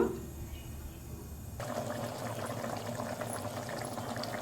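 A pot of ivy gourd sambar with tomato bubbles on the stove, a dense burbling simmer that swells louder partway through and continues steadily up close.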